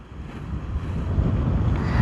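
Ocean waves breaking at a shore in steady wind, a close, continuous low roar that swells gradually with wind buffeting the microphone and no voices.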